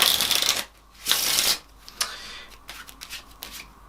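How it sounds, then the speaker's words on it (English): A deck of Black Mint playing cards riffle shuffled by hand: two crisp, fast fluttering bursts of cards interleaving, followed by lighter taps and handling noises, close and clear with no talking. "We'll just do a riffle shuffle now."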